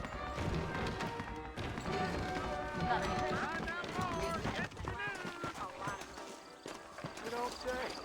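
Horse hooves clip-clopping at a steady trot in the Western video game Red Dead Redemption, running under layered music and talking voices throughout.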